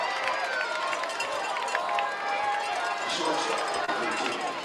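A crowd at a high school baseball state championship, an OHSAA Division 6 game between Hiland and Lake Center Christian, makes a dense, continuous murmur of voices and stadium noise throughout.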